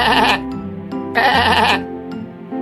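A sheep bleating loudly and close, two long wavering baa calls separated by a short pause, with a brief onset of a third at the end.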